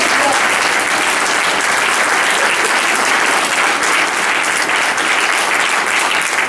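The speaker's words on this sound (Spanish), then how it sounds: "Aplauso que sea más fuerte al Señor." Loud, sustained applause rises from a Pentecostal church congregation, a thick, even roar of many hands clapping close by without a break, with no voices standing out above it.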